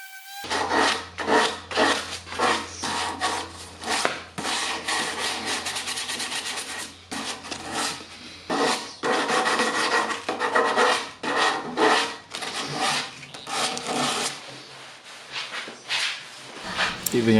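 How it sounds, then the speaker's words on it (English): Sandpaper rubbing back and forth over a wooden coffee table before painting, a steady series of rasping strokes in bursts, fairly close, with some background sound beneath. "It's recommended to do a little bit of sanding before you apply any paint."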